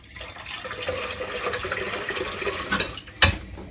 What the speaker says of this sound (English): bear with me while I just fill this with some water